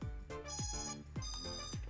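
A budget GPS drone with a 3-axis gimbal and 4K camera sounds its power-on buzzer as a series of bright electronic beeps in quick repeating pulses, clear and close, with no talk over them.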